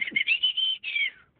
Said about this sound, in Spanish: sabrás cuándo cambiar de página al escuchar este silbido.